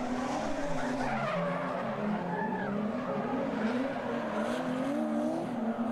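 A widely built car drifting at a drift event, long wavering tire squeals over a continuous engine roar, loud and sustained with no speech.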